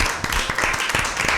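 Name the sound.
audience clapping for a quiz team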